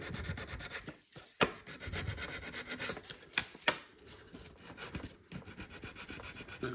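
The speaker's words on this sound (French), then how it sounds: "c'est peut-être mieux de mettre un petit coup de lime" A hand file rasping across a wooden part for a homemade wooden pinball machine, steady close scraping strokes with a few sharper scrapes, no talking.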